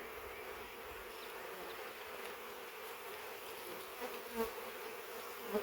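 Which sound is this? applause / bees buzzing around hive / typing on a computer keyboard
bees buzzing around hive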